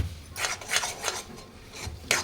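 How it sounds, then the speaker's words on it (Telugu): Roasted gram laddu mixture stirred in a pan with a spoon, giving rhythmic scraping rasps in several quick strokes, close and fairly loud with no talk. "ఇంకా కాలేదు, కలుపుతూనే ఉండాలి, అస్సలు ఆపొద్దు."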